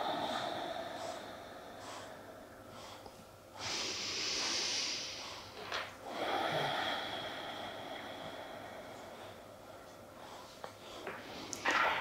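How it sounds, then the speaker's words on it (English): Slow, deep breaths taken during a meditation, a few long, soft, airy inhales and exhales heard close and quiet over a faint background hiss. "take a few breaths here"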